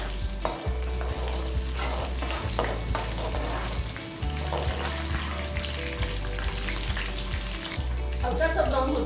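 Garlic, cumin and garam masala fry steadily in hot oil for masala bhindi, with a continuous close sizzle and repeated scraping stirs throughout, no voices.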